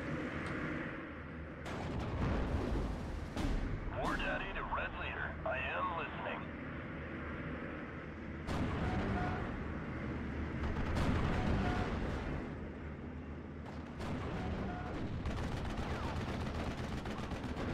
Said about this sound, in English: And here comes another bombing strike.